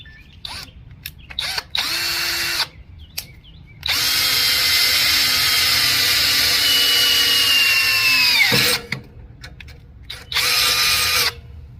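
A power drill boring a 1/4 inch hole in a Troy-Bilt Mustang XP zero-turn mower, loud and close, with short bursts, a long sustained whine whose pitch drops as it finishes, then another brief run.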